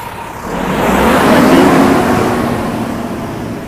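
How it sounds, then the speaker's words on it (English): Close, steady road and engine roar swells and eases as a vehicle passes a large truck, with a low rumbling drone throughout. "before overtaking this big lorry here"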